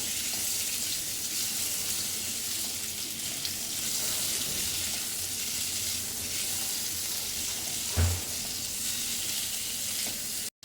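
Okra and potatoes sauté uncovered in a pan for masala bhindi, a steady even frying hiss throughout with one brief utensil knock near the end.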